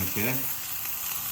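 Beef fillet searing in butter in a hot pan for Beef Wellington, a loud continuous sizzle close by, with a brief spoken word at the start.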